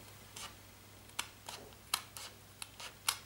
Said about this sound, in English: Okay, so I'm going to cut off these edges with my scissors.